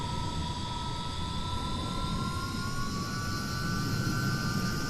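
Hawker Hunter T7 jet engine in Microsoft Flight Simulator 2020, a steady loud roar with a rising high whine held throughout as power builds for takeoff.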